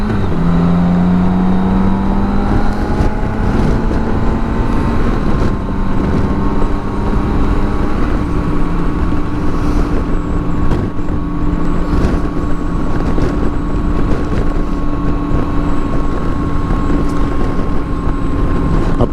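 BMW K1600 GTL touring motorcycle riding on a road, its engine a loud, continuous drone with steady humming tones and road and wind noise, alone without talk.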